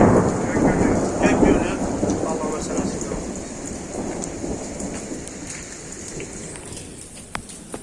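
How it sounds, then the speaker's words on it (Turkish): Steady rain patters and hisses on surfaces, loud at first and gradually easing, with a few sharp drips near the end. "Şu anda yağmurun altındasınız."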